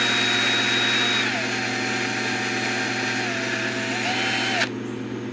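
A power drill cuts a center hole, giving a loud, steady mechanical whine with a constant hum. The whine runs without a break, then cuts off abruptly near the end.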